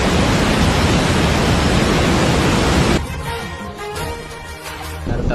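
Cauvery pipeline water rushing out in a steady, loud broadband roar that drops abruptly to a softer, thinner flow partway through before swelling again, outdoors at Male Mahadeshwara Hills.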